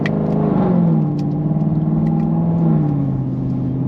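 A Mustang pulls hard in third gear with traction control on, a loud, close engine drone whose pitch climbs steadily with a rough rumbling edge.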